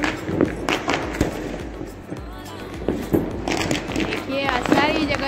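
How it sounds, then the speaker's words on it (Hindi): Diwali firecrackers exploding at night, sharp pops and bangs scattered at irregular intervals, some near and some farther off, under a person talking. "पटाखे की आवाज आ रही होगी आप सबको।"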